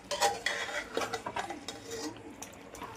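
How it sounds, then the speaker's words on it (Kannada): Mutton being stirred in a pressure cooker with mint leaves: a steady run of close scraping and clinking of a spoon against metal, with a faint sizzle underneath. "ಚೆನ್ನಾಗಿ ಕಲಿಸ್ಕೊಳ್ಳೋಣ."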